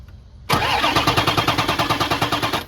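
A 6.0 Powerstroke diesel truck engine that runs rough cranks over with a loud, close starter whir and rapid rhythmic chugging pulses for about two seconds, without catching and without any talking.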